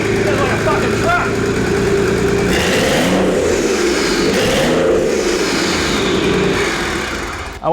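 A nearby turbocharged engine with its exhaust pipes removed roars through a series of revs out of gear, pitch sweeping up and down before settling toward idle, loud and unmuffled.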